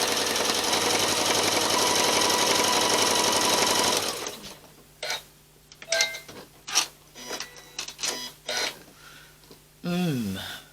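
Sewing machine running a blind hem stitch on fabric for a beginner's Valentine table runner appliqué, whirring loudly and steadily for about four seconds, then stopping as a person talks, with a short mechanical whir near the end.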